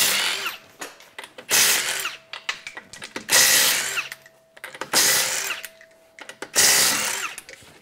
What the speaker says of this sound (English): can I have another rattle gun?